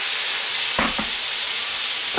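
Cider hits a hot pan of pork steaks to deglaze it, a loud, steady sizzle and hiss throughout, with a couple of brief stirring scrapes.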